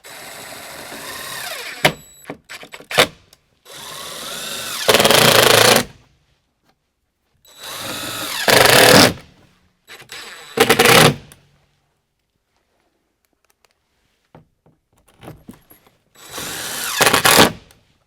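A power drill drives 1.25-inch fasteners with finish washers through a cover panel into a Sprinter van ceiling, in several loud whirring bursts of a few seconds each, separated by quiet pauses.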